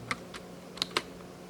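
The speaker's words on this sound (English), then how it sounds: "The keys are all hard to type" Stiff keys clacking on a ZX Spectrum computer keyboard, four sharp, close keystrokes spaced irregularly over steady background hiss.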